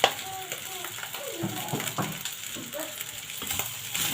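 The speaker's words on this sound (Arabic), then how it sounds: "انا بحب اشوح الفريك عشان ما يشربش مني الشوربه" Freekeh is stirred and toasted in corn oil in a pan, a low frying sizzle under repeated scraping and clattering strokes of a spoon, close by and steady.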